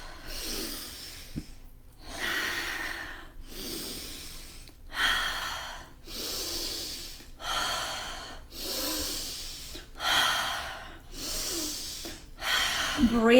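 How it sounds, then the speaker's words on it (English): Deep rhythmic breathing during yoga, slow, drawn-out inhales and exhales repeating about every one and a half seconds, close and airy, with a faint voice in the background. "Start to breathe it in."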